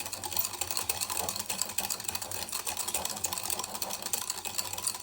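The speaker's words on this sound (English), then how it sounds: "Now we'll have to whisk this until the sugar gets completely dissolved in this." A whisk beats sugar into eggless ghee cake batter in a bowl, quick continuous scraping and clicking strokes with an uneven rhythm, close and fairly quiet, with no talking.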